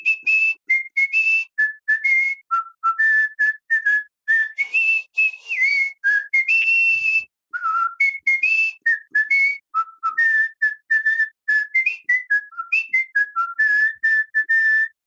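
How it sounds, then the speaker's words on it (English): A man whistles the reveille bugle call alone, a clear melodic run of short rising and repeating notes with brief pauses between phrases, close and bright with no talk. "That was me whistling revelry."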